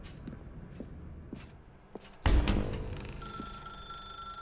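A telephone rings in the video game The Stanley Parable: soft footsteps tap at first, then a sudden loud ring sets in and holds as a sustained bell tone, with no speech.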